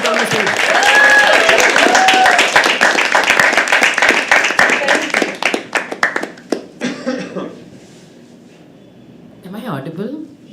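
Loud, dense applause from a poetry open mic audience fills the first half, then thins into scattered claps and fades, with a brief murmur of voices near the end.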